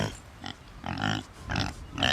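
Pig grunts on a farm, several short bursts at irregular intervals, fairly close and moderately loud with no talk over them.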